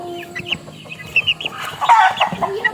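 Backyard chickens cluck close by in short, uneven bursts, with several birds overlapping and growing busier toward the end, set against faint background noise.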